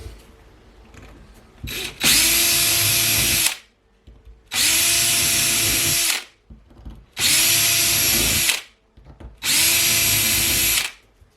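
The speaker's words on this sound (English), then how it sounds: "Let's see how this drills." A power drill bores into a part for a DJI Flamewheel F550 drone frame during crash repair, with four loud, steady bursts of about two seconds each and short quiet pauses between them.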